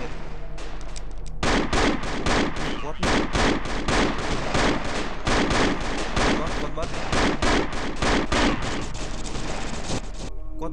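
Rapid bursts of gunfire from an Android zombie shooter game, dense repeated shots and volleys running loud and nearly continuous throughout.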